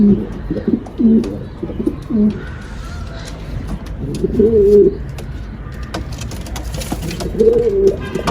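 Giant Isbir fleet pigeons coo in several low, throaty rolling phrases, close and fairly loud, with background noise and some indistinct voices in between.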